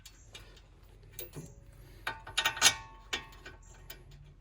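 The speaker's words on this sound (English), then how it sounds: "Just put your 22 mil head bolt back in, get the bracket on." Ratcheting and metallic clicks from tightening a 22 mm bolt on the front caliper bracket of a 2015 Nissan Altima during a brake job, in short bursts of a few sharp ticks, close and moderately loud, with no talking.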